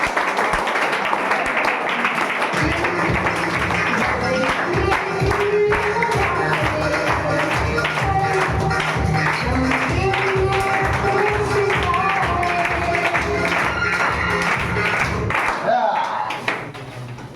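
An audience claps at a class 10 mega quiz competition, sustained dense applause from about two and a half seconds until just before the end, with talking and some tonal sounds mixed in.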